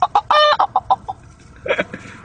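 A man imitates a rooster with his voice: a quick run of loud, close clucking bursts, then a brief pause and a rougher, drawn-out call.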